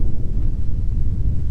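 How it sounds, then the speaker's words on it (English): Strong wind at a campsite buffeting the microphone, a loud, low, rumbling roar that gusts unevenly for a brief moment with no voices. "the wind's picked up a little bit"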